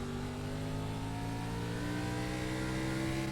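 An ARCA race car engine in iRacing at Martinsville revs hard and steady, its droning pitch slowly climbing, loud and continuous with no voices.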